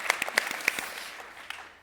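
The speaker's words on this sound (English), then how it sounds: "Give applause as well." A small audience at a sports panel gives a brief, sparse round of applause, a handful of distinct claps at the start that quickly thin out and fade.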